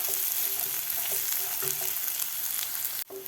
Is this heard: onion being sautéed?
yes